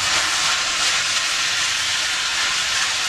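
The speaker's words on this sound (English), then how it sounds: "add your pork. Stir this up really well." Pork and onions sizzle loudly in a hot pan, a dense continuous hiss filling the whole stretch, close up and without talk.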